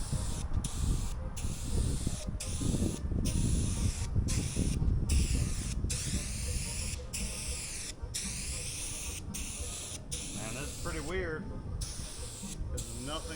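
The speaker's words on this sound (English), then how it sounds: "nothing like a regular spray can" An aerosol spray can hisses while coating a rusted-out Jeep XJ roof under repair, in a run of close, loud bursts separated by brief pauses, with a person talking over it.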